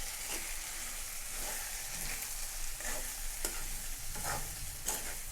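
Sprouted moth bean curry with onion and tomato stirred in hot oil, a steady sizzle under repeated scraping strokes of a spoon against the pan, close and continuous with no talk.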